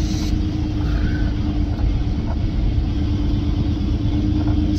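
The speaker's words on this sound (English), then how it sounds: "There comes the last truck in now." A NASCAR hauler truck arriving at a parking area gives off a steady, low engine rumble, droning evenly and moderately close with no pauses.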